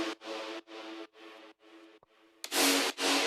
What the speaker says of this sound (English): I also have like this drop stab